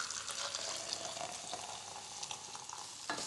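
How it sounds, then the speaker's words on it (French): Aromatic base for a Thai shrimp soup toasting in oil in a saucepan, a steady soft sizzle and crackle with occasional stirring, fairly quiet and alone. "je peux mettre un petit peu d'huile dans cette casserole, allumer le feu en dessous"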